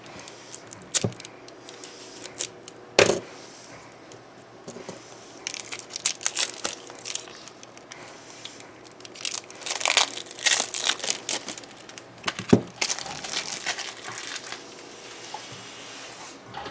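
A Hero Realms card pack wrapper is torn open and crumpled close up, producing bursts of crinkling, tearing and crackling plastic with a few sharper snaps and quieter pauses, and no talking.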